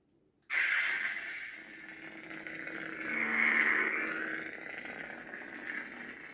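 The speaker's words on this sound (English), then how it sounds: "it's kind of got that Kylo style of crackly fire effect" A Ren Legacy lightsaber ignites at the press of a button with a sudden loud burst, then settles into a steady, crackly, fiery hum that swells slightly midway and holds on alone without pause.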